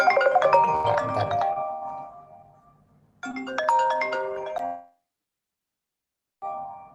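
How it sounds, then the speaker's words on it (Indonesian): A phone ringtone chimes loudly in a melodic burst, pauses, rings again, then starts a third ring after a silent gap before the call is picked up. "Ntar gue angkat telepon dulu ya."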